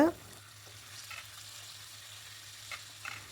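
Tomatoes and drumstick sauté softly in a pan for a chicken and jackfruit seed curry base, giving a faint, steady sizzle with a few light stirring scrapes over a low hum.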